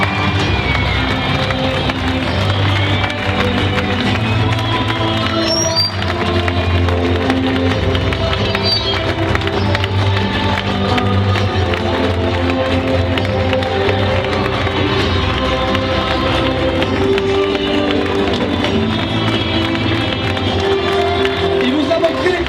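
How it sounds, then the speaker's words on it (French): At the finish of the Ultra Trail di Corsica, a crowd of spectators claps and cheers continuously for the winning trail runner while a loud announcer-style voice talks over the noise and music plays. "Les applaudissements qui ne se sont pas arrêtés depuis plus de 2 minutes"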